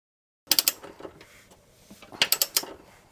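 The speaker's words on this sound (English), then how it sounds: "So torque these two down to the proper spec before finalizing this arm." A ratchet or torque wrench tightens the subframe bolts on a Subaru Crosstrek, producing two close, crisp bursts of rapid metallic clicks separated by a short pause.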